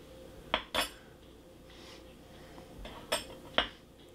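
Metal soup spoons knock against glass jars in a few sharp separate clinks, close and clear over a quiet background, with a soft rattle between strikes.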